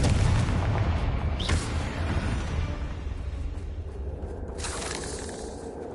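Confringo blasting spells exploding in the Hogwarts Legacy video game, a heavy boom at the start followed by a sharp burst near two seconds and another late, over a continuous rumbling game soundscape.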